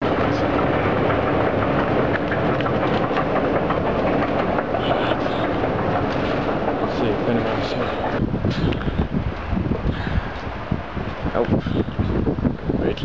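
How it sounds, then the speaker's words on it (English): A train rolls past at close range with a steady, heavy rumble and clatter on a windy platform, the noise continuous throughout while a person talks over it. "There's my train."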